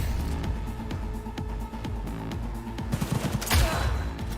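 Rapid, rattling automatic gunfire in the video game Cyberpunk 2077, a loud sustained stream of shots that grows denser and sharper near the end, with no speech over it.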